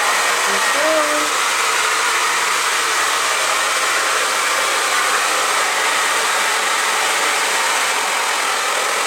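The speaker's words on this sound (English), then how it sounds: "So I have a diffuser and I'm gonna put it on warm and high." A hair dryer fitted with a diffuser runs on warm and high, making a steady, loud, even whoosh that continues unbroken throughout.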